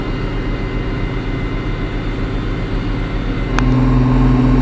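A John Deere 5075e tractor engine running steadily at about 2000 rpm at speed, a loud continuous low drone with a sharp click near the end and a higher tone joining after it, no voices.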